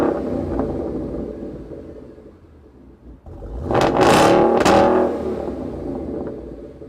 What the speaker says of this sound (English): It's got that European kind of little crackle, and it's also got that muscle car.